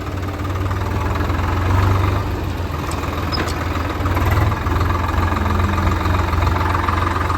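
A tractor engine runs at a steady idle nearby on a farm during field puddling work, a low rumbling chug with slight knocking that swells a little now and then.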